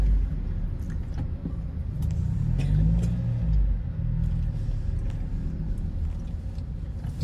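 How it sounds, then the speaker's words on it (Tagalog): Low rumbling road traffic in Tanay, Rizal, with cars passing and engines swelling and fading, a steady mid-distance drone that peaks midway and carries on without voices. "Traffic yan."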